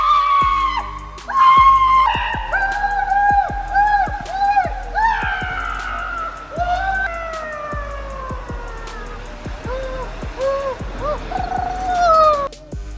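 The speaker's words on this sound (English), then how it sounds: "despite his efforts to keep strong, he could not hold the scream" A man screams again and again in long, wavering, siren-like wails while riding a scary slide at an amusement park, the cries loud and close over music.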